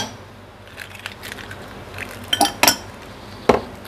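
Ice cubes are dropped two or three at a time into serving glasses of raw mango sharbat. A few sharp clinks and clatters arrive close by in quick pairs, with a last distinct clink standing alone after a short pause.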